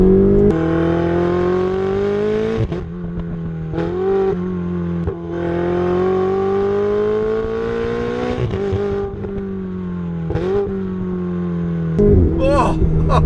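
A Ferrari 488 GTB turbocharged engine revs loudly and close, the engine note climbing and holding through several long pulls, with brief gaps at gear shifts and a sharp burst of pops near the end.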